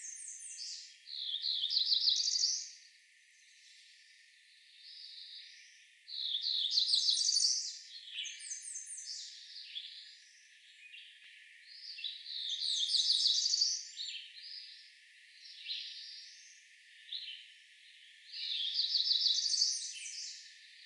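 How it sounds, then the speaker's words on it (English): A cerulean warbler sings a buzzy, rising high-pitched phrase repeated four times at regular intervals, with quieter chips between songs, alone and moderately distant. "another cerulean starts singing a slightly different song"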